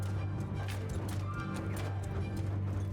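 Horse archers' hooves pound in the medieval battle game Mount & Blade II: Bannerlord, a steady rapid clip-clop of galloping over a low rumbling din of battle, continuous and fairly close.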